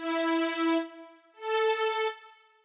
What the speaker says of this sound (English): It's actually quite a simple sound, just a huge saw synth.